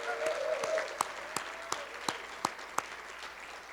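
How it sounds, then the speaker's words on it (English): Audience at a city's State of the City address applauding city staff, a steady wash of clapping with a few sharp individual claps standing out, moderately loud and continuous throughout. "Let's give you a round of applause."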